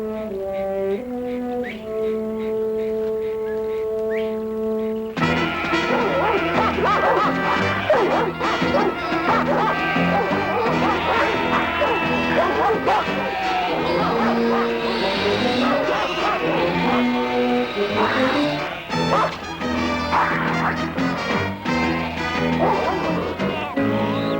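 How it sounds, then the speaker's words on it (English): A dog yips and barks amid a dense, loud orchestral film score, its voice partly buried under the music throughout. "Come on down, Dracula. Come get your meat. Good, Dracula. Good boy"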